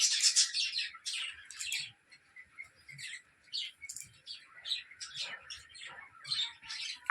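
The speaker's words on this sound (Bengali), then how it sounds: "পাখিগুলো ওদের ভাষায় কথা বলে মাথা খারাপ করে দেয়, দেখো।" Several small birds chirp and tweet outdoors beside an open field, quick bright bursts overlapping in an irregular, busy chatter at moderate distance, with no talking.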